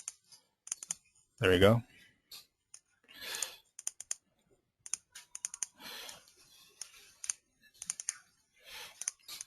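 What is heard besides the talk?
mouse clicking while selecting edges in midas GTS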